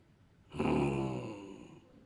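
During a church sermon, a preacher imitates a drowsy listener snoring with his voice. It is one close, drawn-out, breathy groaning snore that rises sharply, then trails off, with no other sound around it.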